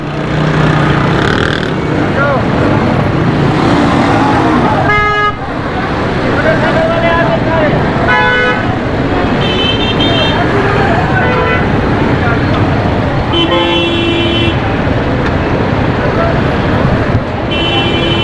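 Dense street traffic jam at Mehmoodabad Gate with several short car horn toots cutting through a steady roar of engines, close and loud, while someone talks over it throughout.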